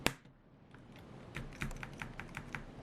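Lenovo Ideapad Yoga laptop keyboard keycap pressed into place, with a sharp click at the start followed by a series of light plastic taps and clicks.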